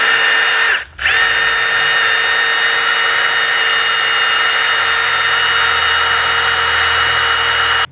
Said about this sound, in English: Using a wire brush, go around and clean inside of the hub where the wheel bearing is going to sit